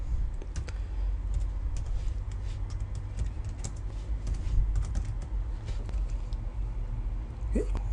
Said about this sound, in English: I'll quickly type some text